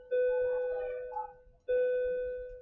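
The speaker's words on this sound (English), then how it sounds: "That's the bell." A school bell rings electronically in two separate strokes, each a sustained steady tone with bright harmonics that slowly fades, the second starting after a brief gap, with no talk.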